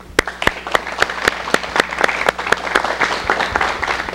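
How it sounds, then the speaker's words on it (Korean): A television talk-show studio audience applauds to welcome a guest, steady clapping with sharp individual claps standing out over a dense crowd patter, lasting throughout. "박수로 맞이해 주십시오."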